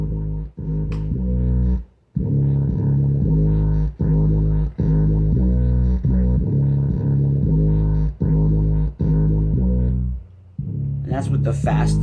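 A synth bass line shaped by a bubble groove effect and fast distortion pulses in a steady, repeating rhythm of short, punchy notes, loud and upfront, with a pause partway through and a brief sound at the end.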